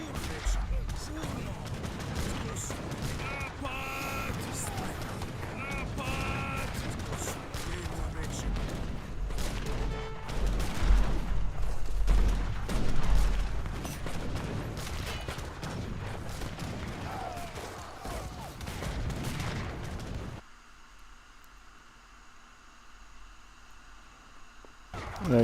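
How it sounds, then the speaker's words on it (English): Artillery and gunfire boom and crackle in an Age of Empires 3 Definitive Edition battle, dense and continuous for about twenty seconds before dropping to a quieter background. "My artillery down there."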